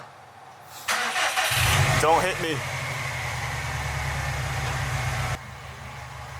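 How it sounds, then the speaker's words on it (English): Subaru STI engine cranking and catching with a loud burst, then settling into a steady low idle before a sudden drop in level, with people talking over it. "Turn the car on."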